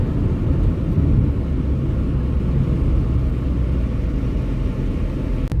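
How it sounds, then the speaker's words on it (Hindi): Toyota Corolla Altis Grande 1.8 CVT engine heard from inside the car while driving, a steady low rumble with continuous road noise at an even level throughout. "गाड़ी का इंजन साउंड भी टोयोटा का जो है बहुत ही अच्छा है"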